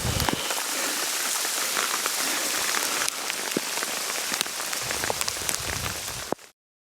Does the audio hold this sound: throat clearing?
no